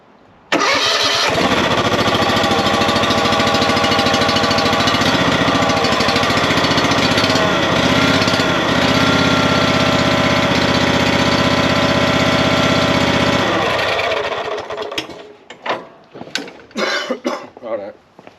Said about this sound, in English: It's a Kawasaki V twin.